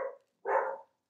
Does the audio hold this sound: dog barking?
yes